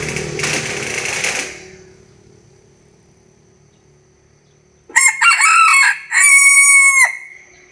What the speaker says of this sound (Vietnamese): đây là chú gà tre